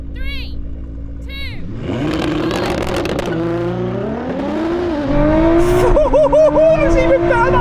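A Ferrari SF90 and a 1000 hp Nissan GT-R launching in a drag race, with engines revving, then loud rising acceleration roaring close by as they pull away, with excited voices over it.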